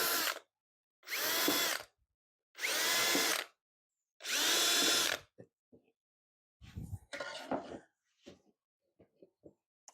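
A power drill bores drain holes in four loud, evenly spaced bursts of whining, then quieter clatter and handling noises follow.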